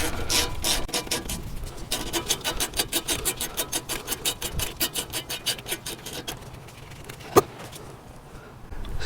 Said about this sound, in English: we're going to take off these 14mm carrier bolts